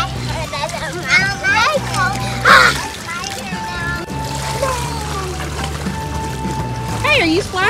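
Water splashing and sloshing at a water park as a child plays, with intermittent splashes under the speech of a child and an adult.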